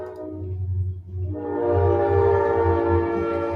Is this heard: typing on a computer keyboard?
no